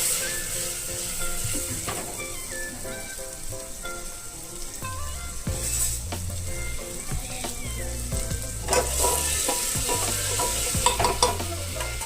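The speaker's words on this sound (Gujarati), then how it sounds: "હલાવી દઈએ।" Vegetables for cracked wheat khichdi sizzle and fry in a pan while being stirred, with steady close crackling and repeated scraping strokes throughout, no talking.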